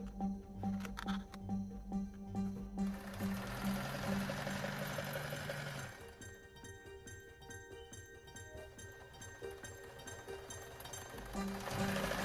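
A sewing machine stitches quilt border seams for a Shooting Star quilt, its steady mechanical whir running throughout at moderate loudness with a rhythmic low hum, slightly louder near the start and end.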